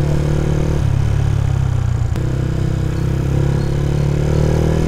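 Yamaha Sniper 150 motorcycle engine after a valve clearance adjustment, a steady loud drone with a low, even pulse and a brief dip near the middle, heard alone.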